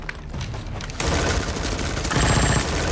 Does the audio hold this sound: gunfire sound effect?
yes